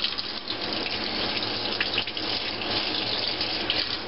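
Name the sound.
rinsing a jar under running tap water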